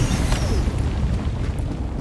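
A giant explosion in Helldivers 2 rolls out as a deep, sustained rumble, loud at the start with a bright crack, then easing into a heavy low roar that tapers gradually.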